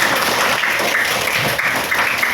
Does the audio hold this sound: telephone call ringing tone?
no